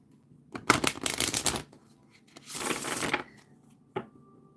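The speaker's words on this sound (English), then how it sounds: "So we're going to shuffle." A tarot card deck shuffled in two bursts of riffling, crisp close card flutters separated by a pause, with a single sharp snap of the cards near the end and no talking.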